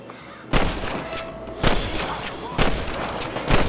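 Gunfire in the video game Red Dead Redemption during a shootout, four loud, sharp shots at roughly one-second intervals over a continuous busy backdrop of game noise.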